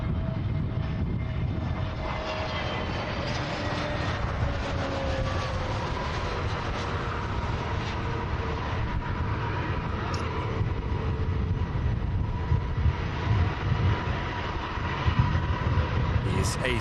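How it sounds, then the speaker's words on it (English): A Jet2 Airbus A321neo airliner arrives at Manchester Airport, its engines a loud, steady roar with sliding whining tones that lasts throughout, while a voice talks over it. "Jet 2 arriving in from Turin."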